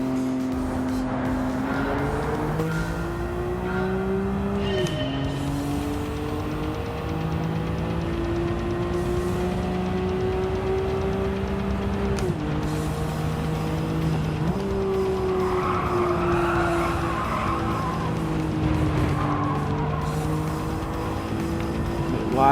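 An R32 race car in Gran Turismo 7 holds a steady, loud engine note that climbs and drops with each gear change, with tire squeal breaking out briefly partway through the continuous racing drone.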